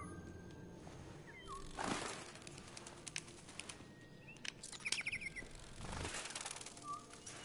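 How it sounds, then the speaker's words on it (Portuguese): Artificial chirps from a robot pet bird in the Detroit: Become Human video game sound as short bright tweets and trills. A few scattered calls and soft flutter-like bursts fall over a faint steady ambient hiss. "até os passarinhos de estimação são robôs nesse universo"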